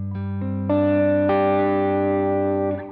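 Electric guitar runs through a Line 6 Pod GO set to a warm, darker Vox-style worship tone, with a few picked notes and chords ringing out with long sustain and ambient shimmer, clean and alone.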